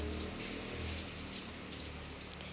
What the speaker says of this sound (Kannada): ಸರ್ರೆ ಮಳೆ.